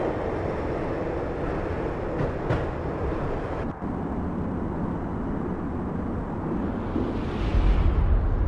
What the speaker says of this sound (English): When the train he was riding slowed down,